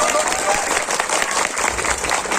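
An audience claps loudly for performing artists at a public gathering, the dense, slightly uneven applause carrying on throughout with a voice faintly mixed in underneath.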